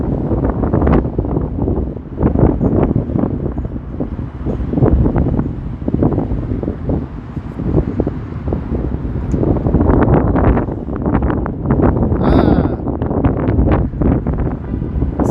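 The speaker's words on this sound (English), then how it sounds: "Mega windy." Strong wind buffets the microphone in heavy, continuous gusts on a downtown Toronto street, a loud roaring rumble with no clear voices.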